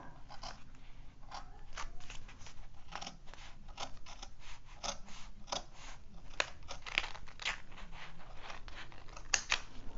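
Scissors cutting around a curved shape in a paper Christmas craft, a quick series of close, crisp snips and paper rustles with no talking.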